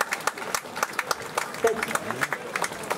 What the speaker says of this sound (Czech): Takže teď ještě jednou potlesk muzikantům